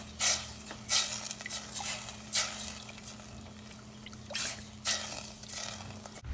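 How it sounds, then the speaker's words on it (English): Homemade play dough mixture with vegetable oil and cream of tartar being stirred in a pot, soft repeated scraping and squishing strokes at a slow steady rhythm, quiet and close, over a low steady hum. "Then mix it up just until it gets warm."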